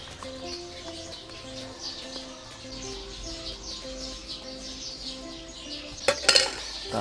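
3-part surfacer paint being stirred in a container during a Yamaha DT125 motorcycle restoration: steady scraping and clinking of a stirrer against the container, with faint bird chirps behind and a sharper knock near the end.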